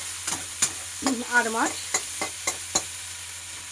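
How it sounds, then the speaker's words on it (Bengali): Onion and tomato tempering frying in a pan, with a low sizzle under repeated sharp scraping strokes of a stirring spoon, close up, and a brief spoken phrase in the middle. "পেঁয়াজ টমেটো দিয়ে এবারে ভাজা ভাজা হবে ফোড়নটা"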